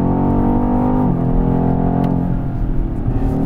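A 625 PS BMW X6 M Competition takes a key corner on a test track, its engine droning loud and steady with harmonic whine that drops in pitch as it eases off, then holds a lower rumble.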